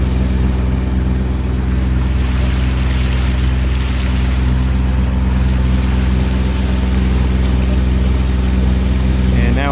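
A boat motors through a lagoon entrance where the tide rips across, its engine a loud, steady droning rumble close by. Rushing water and wind noise run throughout.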